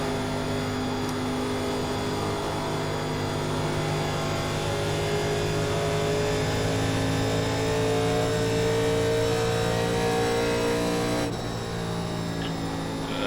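A 1987 NASCAR race car engine roars steadily at the start of an iRacing race at Atlanta, the loud, continuous drone of the car and pack surrounding it with sustained harmonic engine tones and a slight dip near the end.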